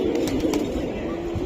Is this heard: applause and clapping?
no